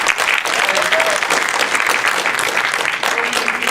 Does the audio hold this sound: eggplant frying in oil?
no